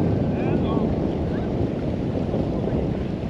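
Strong, steady wind buffeting the microphone on a jetty over the Hopfensee lake, a continuous loud roar with faint waves beneath.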